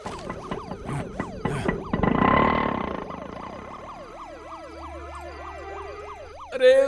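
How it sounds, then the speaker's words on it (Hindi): A police car siren wails in a rising and falling pattern through most of the clip, loud and close, with a sharper burst near the end and a dense noisy swell around the middle. "पुलिस का सायरन है"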